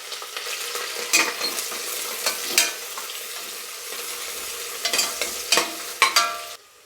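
Cinnamon, cloves, cardamom, onions and green chillies sizzle in oil in a pan, with repeated sharp scrapes and clatters of a spoon stirring them, close and fairly loud with no talking.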